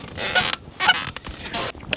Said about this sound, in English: This chair is so squeaky.